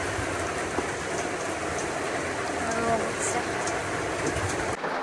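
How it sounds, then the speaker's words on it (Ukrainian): Rain drums steadily outside a window in a dense, even patter that fills the whole stretch, with faint voices murmuring in the background. "На вулиці у нас тарабани там дощик, я думаю, буде чути."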